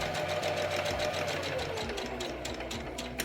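A sewing machine stitches a fabric face mask, its rapid needle chatter close and steady, then slowing to a few distinct stitches at the end.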